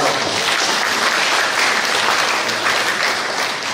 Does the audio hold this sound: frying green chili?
no